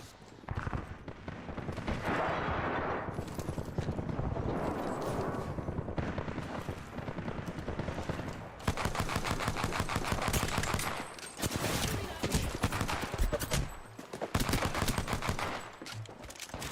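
Gunfire in the battle royale shooter Apex Legends: rapid automatic bursts crackle in clusters, growing denser and louder in the second half, with brief pauses between volleys over a busy background of game noise.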